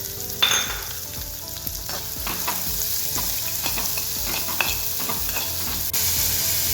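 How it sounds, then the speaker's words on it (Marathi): Onion sautéing in two spoons of oil in a kadai, a steady close sizzle with frying crackle and occasional stirring scrapes, no voices. "एका कढईत दोन चमचे तेल घेतलो सर त्याच्यामध्ये कांदो घालून थोडंसं कांदो परतून घेतलो"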